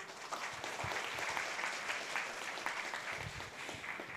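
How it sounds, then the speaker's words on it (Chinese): An audience at a medical service award ceremony applauds Dr. Hsu with steady, sustained clapping from a sizeable crowd, heard from some distance and holding at an even level throughout. "好，再给徐医师热情掌声"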